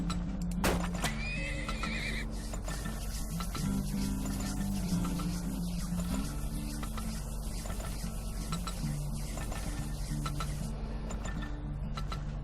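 A horse in the video game Turmoil gives a sharp, loud whinny near the start, followed by a steady, continuous rumble of game background sound with light clinking throughout.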